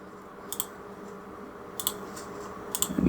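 Typing a hash mark on a computer keyboard while writing a Roll20 macro: a few quiet, sharp key clicks spaced apart, with a cluster of keystrokes near the end over a low room hum.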